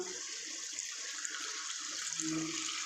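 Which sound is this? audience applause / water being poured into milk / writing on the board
water being poured into milk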